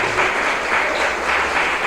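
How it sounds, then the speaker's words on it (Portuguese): A church congregation applauds strongly during an evening service, brief dense clapping that swells in soft waves. "aplauda forte ao Senhor nessa noite"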